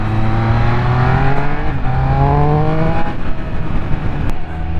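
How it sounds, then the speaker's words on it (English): A Triumph Speed Triple RS three-cylinder motorcycle engine revs up through the gears in sport mode, rising whirring tones climbing, dropping at each shift and climbing again, loud and close with wind rush beneath. "You can hear that triple whir coming through from the engine."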